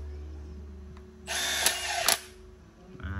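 A Milwaukee power drill drives screws in a short, close whirring burst of about a second, with a clicking catch at the end before it stops.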